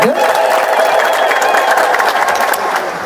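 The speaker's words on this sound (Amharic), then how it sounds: "አጨብጭቡላቸው ለአቶ አስፋው" Sustained applause with some crowd cheering fills an indoor gathering honouring an elderly man, steady and dense throughout at close range.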